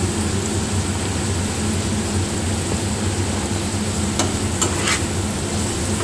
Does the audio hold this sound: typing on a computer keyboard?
no